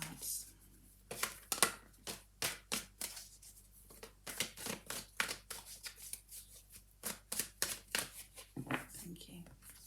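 Tarot cards shuffled by hand for a yearly forecast reading, a steady run of quick riffling card snaps up close, quiet and repeated for several seconds.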